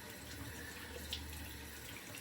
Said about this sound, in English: Now warm water, cold water, your preference. I'm gonna wash off that lather